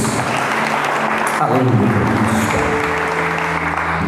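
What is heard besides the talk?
congregation applause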